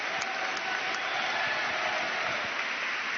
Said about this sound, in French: Vous allez vous lever qu'on vous applaudisse.